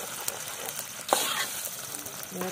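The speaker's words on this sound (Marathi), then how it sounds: "सारखं तेलात परतून घ्यायचं व्यवस्थित." Chicken liver frying in hot oil in a pan outdoors gives a soft, steady sizzle, with a sudden scrape and bubbling surge as it is stirred partway through, faint and close.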